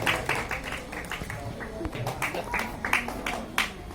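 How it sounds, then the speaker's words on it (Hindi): Audience clapping at the annual function of a cooperative society, scattered and uneven hand claps in a hall, with voices and background talk mixed in. "जोरदार तालियों से स्वागत है इनका।"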